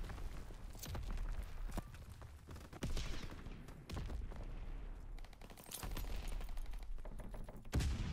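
Sawed-off shotgun blasts in Call of Duty WW2, heavy booming shots scattered irregularly across a busy battlefield din with other gunfire and footsteps.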